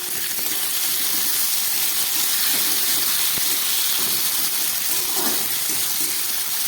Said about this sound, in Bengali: একটু ভেজে নিই সবজিগুলোকে